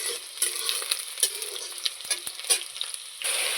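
Diced potatoes fry in a pan as ground turmeric and cumin are added, giving a soft continuous sizzle broken by quick scraping stirs and light clinks, close to the microphone with no voices.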